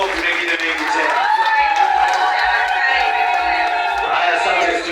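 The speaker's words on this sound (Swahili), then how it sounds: "Piga makofi mengine mengi tena." A crowd at a petroleum company launch event claps and cheers in sustained, loud applause, with a voice on a loudspeaker rising over the noise.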